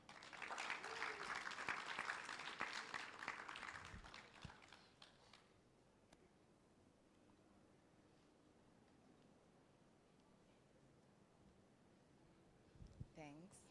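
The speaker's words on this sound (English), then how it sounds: "We welcome her with the clap." Audience applause at a blue economy summit welcomes a speaker to the stage: a dense, loud burst of clapping for about four seconds, then it drops away to a quiet room hush.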